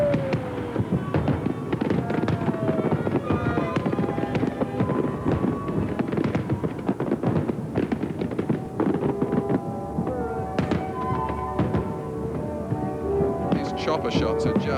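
Fireworks burst over Sydney harbour on New Year's Eve 1997, a dense, continuous barrage of booms and crackles with crowd noise, sounding loud and sustained throughout.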